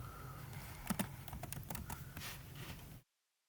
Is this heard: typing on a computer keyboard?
yes